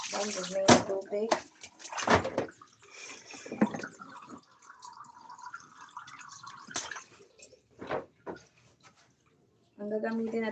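Water runs steadily from a tap while a child's toy is washed, with people talking over the flow at the start and close to the end.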